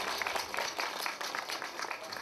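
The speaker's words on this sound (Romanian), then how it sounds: "Vă rog frumos aplauze, că merită." Applause from a crowd at a village festival in Gârceni, Romania, a steady dense patter of many hands clapping at moderate distance, continuing evenly without a break.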